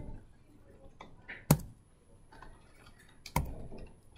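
Sparse keystrokes on a computer keyboard while Java code is typed, scattered soft taps with two sharper, louder clicks standing out, close by and with no talking.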